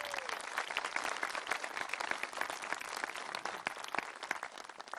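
Sustained applause from a commencement audience at Peninsula College in Port Angeles, a steady dense patter of many hands clapping at moderate distance with no talk over it.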